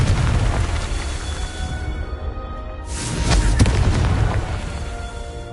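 Confringo blasting spell in a Harry Potter video game, deep rumbling booms, with a sharp blast near the middle followed by rolling, echoing explosion noise that slowly fades.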